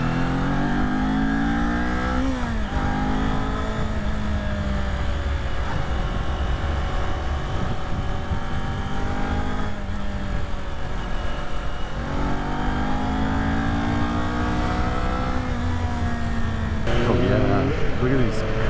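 A motorcycle, either a Kawasaki Z400 or a Tracer 900GT, accelerates along a scenic road, its engine rising through several gear changes with a rough, steady drone and wind noise, and a rider talks over it.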